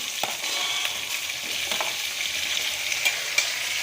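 Onions and small tomatoes sauté in a pan for Kumbakonam-style sambar rice, producing a steady, close hiss of frying broken by occasional light stirring clicks, with no voices.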